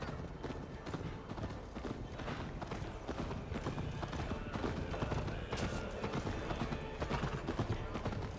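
Rapid hoofbeats of a galloping horse in the video game Assassin's Creed Valhalla pound steadily throughout, with voices speaking faintly underneath.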